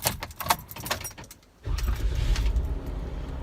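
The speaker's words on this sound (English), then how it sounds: "We're gonna fire it up." Keys jingle briefly, a short pause follows, then a Jeep JK engine with a new starter turns over and catches, settling into a low, steady idle.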